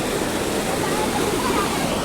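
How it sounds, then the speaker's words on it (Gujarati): A swollen river rushes after two to three hours of heavy rain, the floodwater running over a bridge; a steady, dense roar of water fills the whole stretch without pause. "અત્યારે તો એટલી જ નદી ચાલુ છે."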